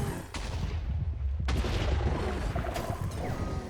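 Explosions in the roguelite game Tensura: Roguelited, a cluster of sharp booming blasts with crackling debris, two strong hits about a second apart over rumbling background.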